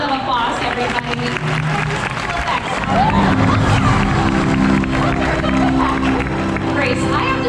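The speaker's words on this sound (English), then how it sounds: "Give him a big round of applause, everybody." Audience applause and cheering at a special effects show at Universal Studios Hollywood, building into a dense wash of clapping with crowd babble and a voice underneath.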